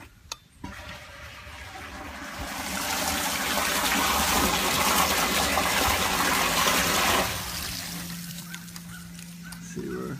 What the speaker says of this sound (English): Let's see where all the water flows up to the towers.